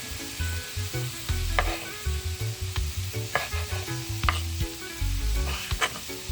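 Tinned mackerel frying in a pan, a steady close sizzle with bursts of crackle and stirring clatter throughout, no voices.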